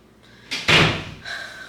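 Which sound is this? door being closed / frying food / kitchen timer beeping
door being closed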